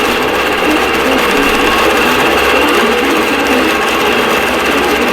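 A sewing machine stitches a vintage quilt, running loud and continuous at a steady fast pace, close up with no pauses.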